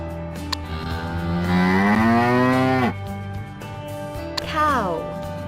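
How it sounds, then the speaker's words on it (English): A cow moos twice, first a long, loud, rising low call, then a shorter falling moo, over soft background music. "Cow."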